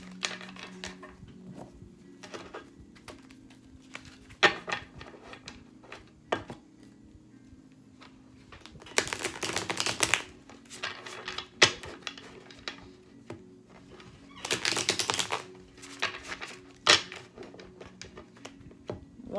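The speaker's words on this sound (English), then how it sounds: "One more shuffle" Tarot cards are shuffled by hand close up, giving soft continuous riffling and tapping with two louder bursts of card flutter, quiet overall and with no talk.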